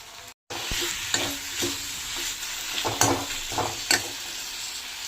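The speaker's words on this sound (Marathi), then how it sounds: "आता त्याच्यामध्ये मी वांगी टाकते जी बारीक चिरलेली आहेत उभ्या स्लाईसमध्ये ती पण छान मी अशी परतून घेते" Thinly sliced vertical brinjal strips sautéed in a pan, a steady sizzle broken by scraping spatula strokes, close and loud with no talking.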